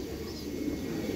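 Racing giribaz pigeons coo softly in a steady, low murmur that runs through the whole moment, close by and unbroken, with no voices.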